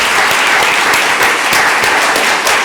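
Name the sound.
audience applause for keynote speaker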